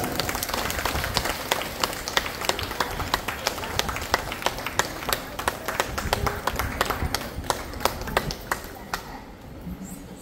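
A crowd at an office opening ceremony applauds in a sustained, busy round of claps that fades toward the end, with some voices mixed in underneath.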